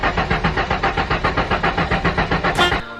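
A cheap twin-turbo Ford Mustang drift build cranks over on its starter in a steady, rhythmic churning of about a dozen even pulses, then briefly catches with a rising rev before cutting out, close and loud.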